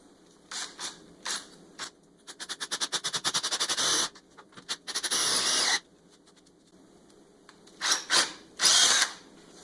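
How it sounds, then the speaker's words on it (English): A masonry bit drills holes into a concrete floor to anchor a Harbor Freight manual tire changer, in several loud bursts: short stuttering pulses, then a sustained grind, and two more bursts after a pause, close up with no talking. "You can see I've taken my masonry bit and I've taped it off at 1 5/8. I'm going to go ahead and drill these out"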